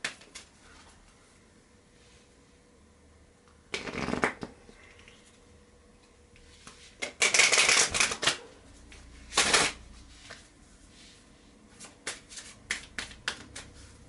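Lenormand cards riffle and slap as a deck is shuffled in short bursts, with clear pauses between flurries and a few lighter taps and flicks near the end, close and fairly quiet.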